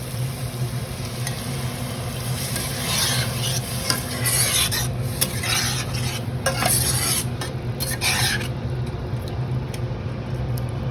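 Butter chicken gravy being stirred in a pan as water goes in, a steady close scraping and stirring over a continuous frying sizzle, with no voices.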